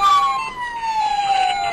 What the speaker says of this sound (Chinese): 消防车火速赶到现场，